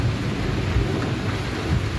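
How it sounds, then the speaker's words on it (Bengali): Heavy rain pours down outside during a storm, a dense steady roar with low rumbling thunder beneath it, loud and close throughout with no voices. "বাইরে তো অনেক জোরে বৃষ্টি হইতেছে"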